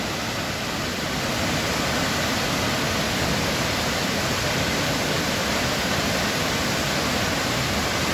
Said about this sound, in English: So yet another waterfall. This is the fourth one of the morning.